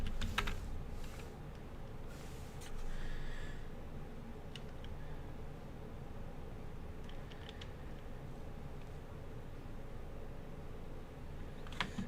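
Fingers tap a computer keyboard in a quiet room, entering a Linux apt-get command in scattered soft clicks over a low steady hum.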